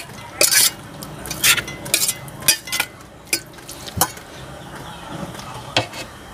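Marinated pork with fish sauce mixed in a bowl with utensils: close, rhythmic clinks and scrapes of metal against the bowl, about eight strokes spaced under a second apart, with no voices.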